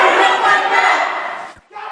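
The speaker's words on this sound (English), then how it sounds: "Shortly after the vote, a brief protest erupted in the chamber." A crowd chanting in protest inside a legislative chamber, a loud sustained wash of many voices that swells and then fades out.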